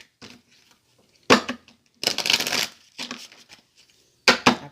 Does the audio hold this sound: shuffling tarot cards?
yes